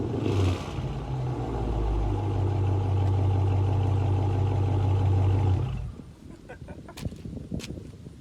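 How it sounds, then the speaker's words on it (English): A Chrysler 300 engine fitted with a new front lip, a low steady engine rumble rising and held loud for several seconds before dropping off, followed by quieter clicks and faint noise. "should I do one rev for my Grizzly squad"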